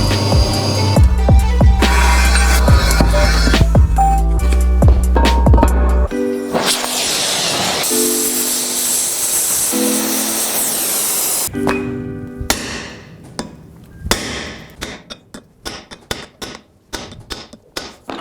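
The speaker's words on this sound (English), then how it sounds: "We're going to put some steel in the saw, give it a cut." Power saw cutting steel stock while making a falchion sword: a loud, close, harsh buzzing whine with rattling, then a shifting grinding cut, then the blade winding down into scattered clanks and taps.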